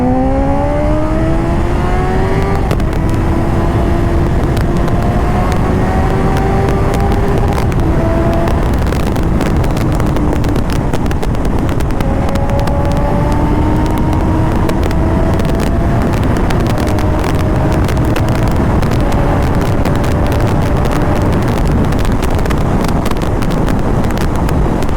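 A Honda CBR 650F inline-four motorcycle with an Akrapovic exhaust, ridden on an open road: the engine rises in pitch through several gears, each shift audible, under heavy, constant wind rush.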